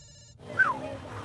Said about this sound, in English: A call from Mum and Dad. On the phone.